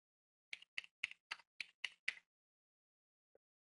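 Seven crisp, evenly spaced key taps on a computer keyboard, close and clean against silence, followed after a pause by one faint soft click.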